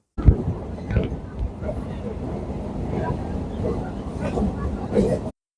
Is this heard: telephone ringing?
no